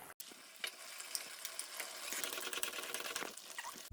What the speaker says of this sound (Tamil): மசாலா நல்லா கொதிக்க ஆரம்பிச்சிருச்சு.